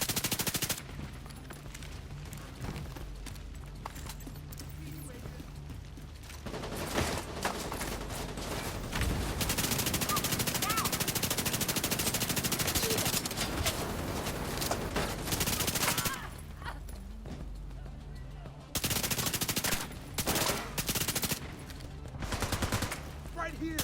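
Heavy gunfire in The Division 2 video game: long bursts of automatic fire and dense volleys broken by short pauses, loud throughout, with some game dialogue mixed in.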